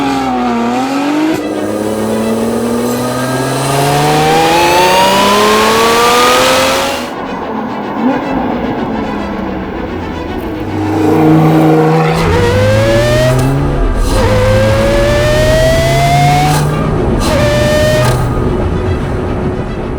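Lotus Emira V6 with a supercharger, Milltek decat exhaust and Eventuri intake, driven on the road: loud repeated full-throttle pulls through the gears with rising revs, a lift-off pause and crackles, then further hard acceleration.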